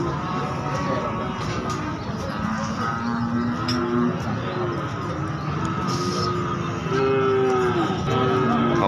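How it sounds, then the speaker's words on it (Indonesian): Several breeding cows low and moo over a busy din at an outdoor cattle market in Jaken, Indonesia, the calls drawn out and overlapping, some near and some farther off. "Sapi-sapi indukan."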